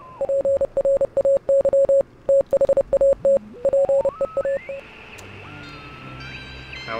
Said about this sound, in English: The Morse code wasn't it?